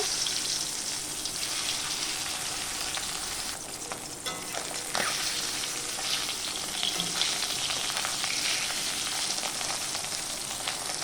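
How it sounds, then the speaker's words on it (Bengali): Two fish fry in a pan of hot oil, a steady broadband sizzle that runs continuously and fairly loud throughout, with faint clinks of a utensil near the middle. "এবার মাছ দুটো ভেজে নেব।"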